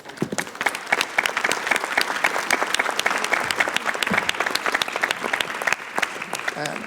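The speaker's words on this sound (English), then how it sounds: "Please join me in a round of applause." An audience at a conference session gives a round of applause, many hands clapping in a lively, dense burst that carries on steadily, with a few voices faintly mixed in.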